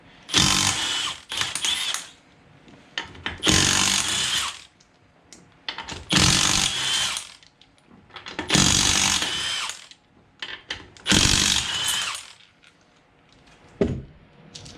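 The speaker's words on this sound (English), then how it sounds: "Got my little impact gun." A small impact gun takes lug nuts off a Kubota BX tractor in five loud, close bursts of buzzing hammering, each lasting around a second or two with quiet gaps between, then one short final burst.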